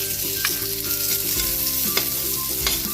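Sliced onion hitting hot oil in a frying pan sizzles steadily for three seconds, with a few clinks of a stirring utensil against the pan and a low background hum.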